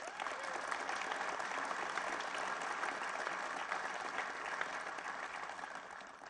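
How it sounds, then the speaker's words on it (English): An audience applauds union workers at a hydrogen hub announcement, steady dense clapping holding evenly throughout at a moderate level, no speech over it. "give yourselves and your unions a round of applause"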